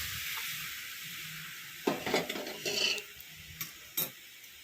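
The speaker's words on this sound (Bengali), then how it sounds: "এবার ডালটা ঢেলে দেবো।" Lentil dal is poured into a pan of raw mango pieces fried soft in oil, setting off a burst of hissing sizzle and splashing after a quiet simmer, then fading into intermittent crackles.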